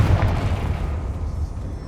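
A Confringo blasting curse explodes in Hogwarts Legacy, a heavy, booming blast with a deep rumbling low end that fills the whole stretch and slowly tails off, loud and close.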